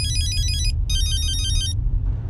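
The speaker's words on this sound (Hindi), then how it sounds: "कमांडर का फोन आ रहा है" A phone rings with two bursts of a bright electronic trill, separated by a short gap, over a low rumbling background.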